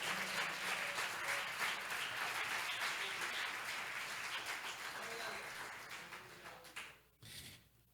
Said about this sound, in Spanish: Alguien aplauda fuerte al Rey de Reyes y Señor de Señores.